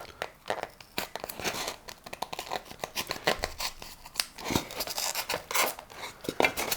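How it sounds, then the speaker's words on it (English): Parts of a model stone on a crafted cathedral or nativity building are cut away, making close, irregular crunching and crinkling snips and scrapes that come in quick bursts. "I will cut away"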